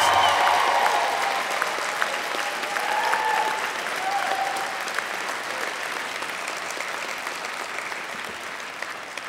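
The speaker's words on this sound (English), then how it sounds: "I mean a rousing round of applause." A large crowd applauds at the University of Tennessee College of Engineering commencement ceremony in 2011, a loud, sustained wash of clapping that starts strong and eases slightly over nine seconds.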